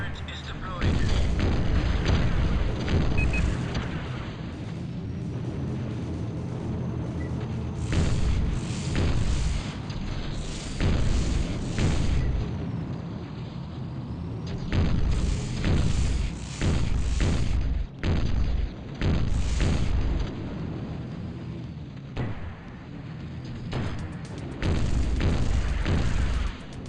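Repeated loud booms and blasts in the tank combat game Battlezone 98 Redux, heavy bursts recurring every few seconds over a dense rumbling battle backdrop, with game voice alerts in between.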